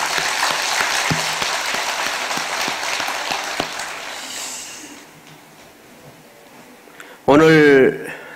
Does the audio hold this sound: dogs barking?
no